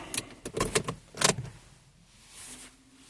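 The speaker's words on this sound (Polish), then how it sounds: "Wyłącz i wyjmij kluczyk. OK. Włóż następny." Car key pulled from and pushed into the ignition of a 2011 Opel Insignia, giving a few close metallic clicks and jingles, then a quieter low electrical hum from the car.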